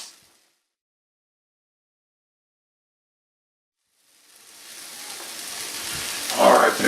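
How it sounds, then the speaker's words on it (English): Pollock fish meat sizzles in a hot pan, a steady broadband hiss that rises from silence after about four seconds and swells louder toward the end, with no voices. "we're gonna make sure it's nice, browned, sizzled meats"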